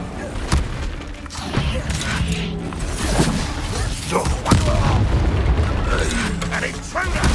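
Bombarda spell explosions in Hogwarts Legacy, sharp booming blasts and thuds hitting amid continuous combat clatter, with a voice speaking over the fight.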